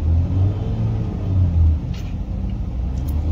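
A stationary Skoda Rapid automatic with a failing torque converter revs up close, a loud low engine rumble swelling and easing in a couple of surges before settling to a steadier idle.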